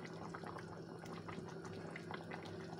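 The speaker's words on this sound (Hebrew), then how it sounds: "אז הנה זה רותח" Chicken roast sauce boiling in a pot, a steady, quiet bubbling and popping simmer that continues evenly throughout, with no voices.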